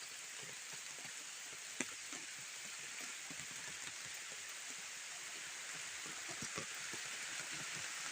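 Heavy rain pours down in a village, a loud continuous hiss with dense patter of drops striking nearby surfaces, steady throughout with no talking.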